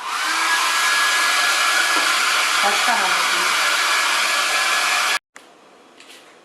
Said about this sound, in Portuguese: E vou pro secador de novo